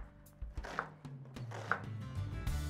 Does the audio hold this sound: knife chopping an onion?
yes